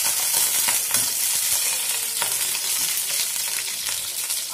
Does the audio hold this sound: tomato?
yes